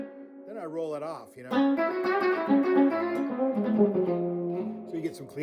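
An electric guitar played with its volume knob rolled back for a cleaner tone rings out sustained chords after a brief voice-like wavering phrase at the start, steady and fairly loud.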